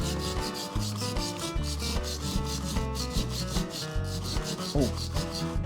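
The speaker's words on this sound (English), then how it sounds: "I'm gonna scrape down the middle like this." A plaster bug dig kit block is scraped with a small tool, a steady rubbing, gritty scratch in repeated close strokes, with no talking.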